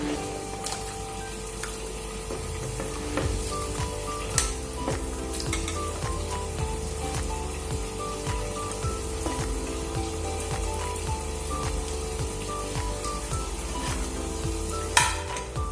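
Steady sizzling and bubbling in a wok as papaya and water are added, with occasional sharp clinks and scrapes as food goes in and gets stirred; no voices.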